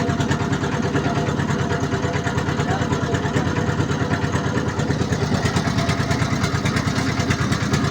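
A trawler boat's engine chugs steadily on a river trip from Jaflong Zero Point in Sylhet, Bangladesh, a loud, close, fast even putter that runs unbroken throughout.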